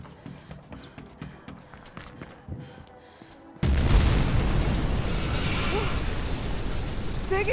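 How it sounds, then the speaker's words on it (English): In the video game Mirror's Edge Catalyst, scattered faint thuds and taps give way to a sudden loud explosion. A dense, roaring rumble follows and holds steady to the end. "Big explosion over here."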